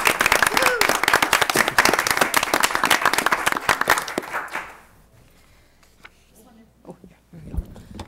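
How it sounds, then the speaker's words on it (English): A room of attendees at a school board meeting breaks into a round of applause, loud and dense for several seconds before tapering off into near silence, followed by a few scattered sounds. "I just wanted to take this moment to give her a little round of applause"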